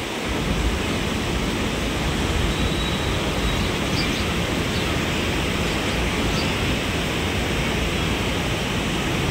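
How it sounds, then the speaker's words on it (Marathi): Huge floodwaters surge and crash against rocks in a steady, roaring wash of churning water, loud and continuous with no pauses. "बघा मित्रांनो कशा लाटा एकदम जबरदस्त अशा आदळत आदळत खडकाव आपटत राहता"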